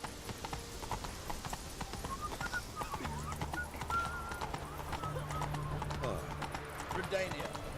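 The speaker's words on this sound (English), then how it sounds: "Whoa there, Roach" Horse hooves clip-clop at a steady gallop in The Witcher 3: Wild Hunt, a continuous rhythmic patter with a whinny, under game music and a voice speaking.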